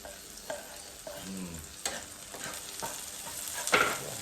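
Onion and garlic stir-frying in a little oil, a soft steady sizzle broken by irregular scraping and stirring clatters of the spatula against the pan.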